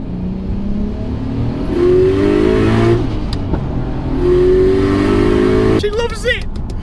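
Single-turbo conversion Nissan Skyline R34 GTR making 530 horsepower accelerating hard, engine pitch climbing through two long pulls with a gear change between, heard from inside, then easing off with a chirp of turbo flutter.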